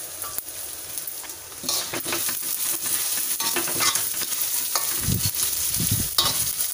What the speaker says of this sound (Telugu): అలాగే జీలకర్ర వేసుకొని ఈ మూడు దోరగా వేయించుకోవాలి. ఆ తర్వాత ఎండుమిరపకాయలు వేసుకోవాలి.